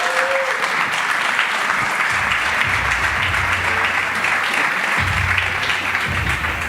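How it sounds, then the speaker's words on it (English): A crowd at a Bitcoin conference applauds steadily, a dense wash of many hands clapping for several seconds with a low rumble from the hall beneath. "a round of applause."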